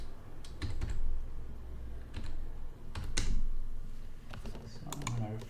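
Keys clatter on a computer keyboard in short irregular bursts, close and moderately loud, while someone talks between and over the typing.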